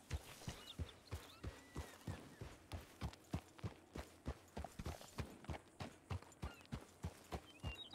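Close, moderately loud horse hooves clip-clop at a steady, even walking pace for several seconds in Red Dead RP, with no other sound over them.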